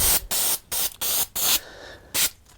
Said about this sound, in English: I'm going to use that 3M77. Is that on now? Yeah. Really good adhesive